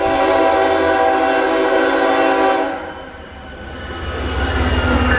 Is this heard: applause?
no